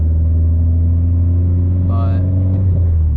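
A Nissan S14 idles with a deep, steady exhaust drone and strong low hum, close by, while a voice briefly sounds over it.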